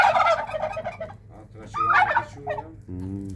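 Three turkeys gobble in a yard in Rahovec, Kosovo: loud, rapid, warbling gobbles in overlapping bursts, fairly close, with a short steadier call at the end and no talking.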